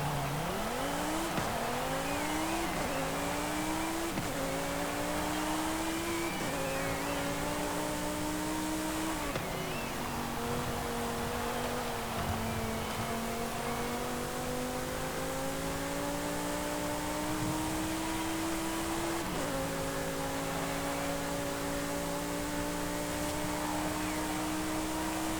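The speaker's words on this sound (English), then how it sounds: "let's take a look at the engine first and see how it sounds" A Lamborghini Huracán STO's V10 engine in Forza Horizon 5 revs repeatedly through rising pitch sweeps, with gear changes and sustained high-rev howling for over twenty seconds, loud and steady with no talk.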